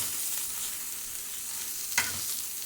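Eggplant drops into hot oil and fries with a steady, soft sizzle, with one brief stirring clatter near the end.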